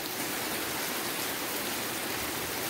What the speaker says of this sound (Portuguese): Bom demais a chuvinha mansinha, né?